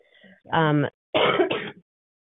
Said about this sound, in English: We're going to try to edit out as many of those coughs as we can